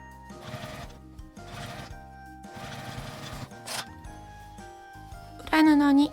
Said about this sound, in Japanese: 表側だけミシンをかけます。